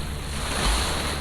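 Lake water surges and washes against the shore beside the R.C. Harris Water Treatment Plant, a broad continuous rush mixed with wind buffeting the microphone.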